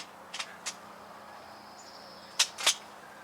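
A Hatsan Blitz .22 full-auto PCP air rifle fires sharp, dry snapping shots in two quick pairs separated by a pause, over a quiet outdoor hiss.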